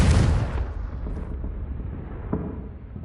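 Confringo blasting spell in Hogwarts Legacy, a loud booming explosion at the start that rolls off into a fading rumble, with a small pop later on.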